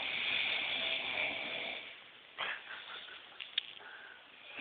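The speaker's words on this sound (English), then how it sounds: "He's snoring so loud." A man's heavy, buzzing snore drones loudly then fades, giving way to quieter breathing with a couple of small sniffs and clicks.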